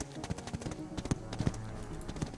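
Horse hooves clattering in Totally Accurate Battle Simulator as cavalry tramples a horse, a quick run of uneven clip-clop thuds and taps at close range, with faint game noise underneath.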